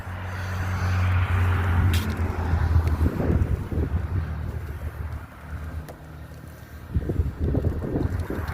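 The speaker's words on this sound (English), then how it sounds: "Now I'm in the basically open gondola car," Riding in an open gondola car of the Zanesville & Western Scenic Railroad train: heavy wind buffets the microphone over a continuous low rumble of the moving train, with swells of louder rolling noise.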